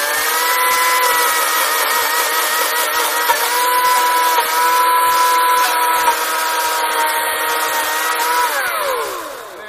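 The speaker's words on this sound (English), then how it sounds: "Let's see my demonstration of this chainsaw. I have here a board. I'm going to cut end off of that board." A chainsaw engine whines at high revs, pitch dipping slightly as it bites through the end of a wooden board, then dropping off near the end.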